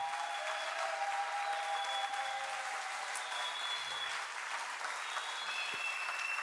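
A congregation applauds at an evening church service, a steady wash of clapping held for the whole stretch, with a few faint voices and cries rising above it.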